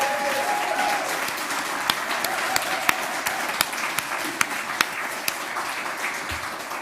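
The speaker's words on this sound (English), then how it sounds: "So please give a round of applause to Donna Leonard." Sustained applause from a crowd at a teaching and learning conference, dense clapping that carries on evenly throughout with a few sharper claps standing out.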